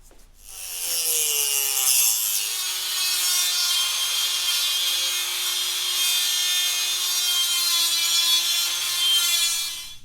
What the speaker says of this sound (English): Now I need to cut the 3/8 bolt and point the end a little bit.